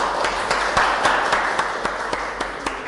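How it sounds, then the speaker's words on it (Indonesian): Audience applause greets a guest arriving on a nutrition podcast, a steady wash of clapping with a few sharper claps standing out, moderately loud and with no talk over it. "Beri tepuk tangan yang meriah"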